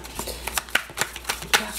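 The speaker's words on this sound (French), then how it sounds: "Une dernière carte pour voir." Tarot cards are shuffled by hand in a quick burst of soft, irregular riffling clicks and flicks, faint and close.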